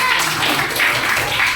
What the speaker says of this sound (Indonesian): Kasih tepuk tangan buat si Tata ini.